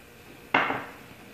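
A single clattering knock of a utensil against a bowl while carrots, cabbage, pepper powder and mayonnaise are mixed, a sharp close hit that rings and fades over under a second.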